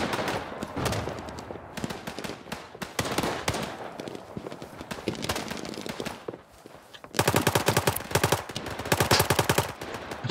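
Rapid automatic gunfire in the war shooter Day Of Wars, bursts of fire that pause briefly then return louder and denser near the end, close and dominant with little talk.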